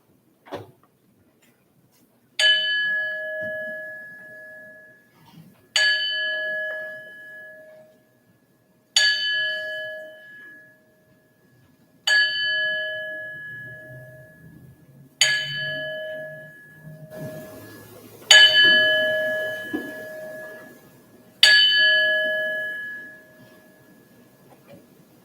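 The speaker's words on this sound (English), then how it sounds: "We'll begin our service this morning by ringing the bell 7 times in honor of our 7 Unitarian Universalist principles." A church bell at a Unitarian Universalist Sunday service is struck seven times, each clear ringing stroke spaced about three seconds apart and left to decay before the next, with faint room sounds between.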